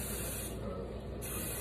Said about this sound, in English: and you have to spray